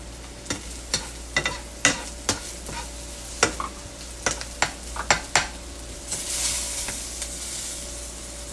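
Onions, green pepper and bacon fry in a pan with a soft continuous sizzle, broken by a string of sharp clacks from a utensil scraping and stirring, close by with no speech.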